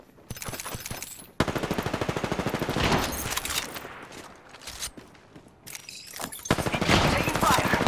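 Gunfire in Apex Legends: rapid bursts of automatic weapon fire, loud and close, with brief pauses between volleys and game voice lines heard over the shooting.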